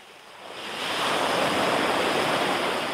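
Sea waves surging at Marina Velate, a steady broadband wash of surf that swells louder after the first second and holds, close and continuous, with no voices.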